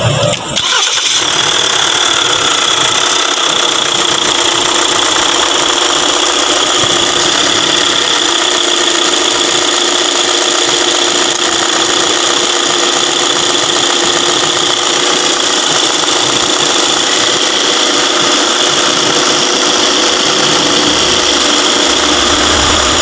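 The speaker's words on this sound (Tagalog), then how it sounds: "so try natin paandar si Thunder Photon" A Foton Thunder pickup engine cranks over and catches right at the start, then settles into a steady, smooth idle just after an oil change, with a loud, even hum running through to the end and no talk.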